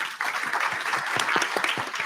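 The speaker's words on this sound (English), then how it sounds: "And another big round of applause." Audience at an official World Food Day event breaks into a big round of applause, a dense, steady wash of many hands clapping throughout with no talk over it.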